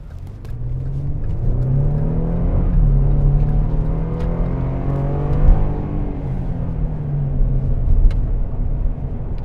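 Chevrolet Colorado ZR2 Dusk Edition pickup on off-road tires accelerating in rear-wheel drive, engine note climbing and falling through gear changes in a close, steady rumble without talk.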